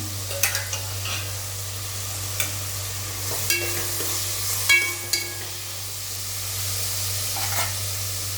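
Tomatoes frying in oil for vegetable biryani, with a soft sizzle under repeated scraping and clinking of a spoon stirring the pan, up close.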